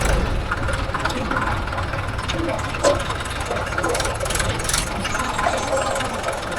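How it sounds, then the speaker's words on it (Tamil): Steady engine rumble of JCB 3DX backhoe loaders, three running nearby while loading lake soil, a continuous low drone with occasional clanks, plus faint voices in the background. "மொத்தம் 3 ஜேசிபி ஓடிட்டு இருக்குது"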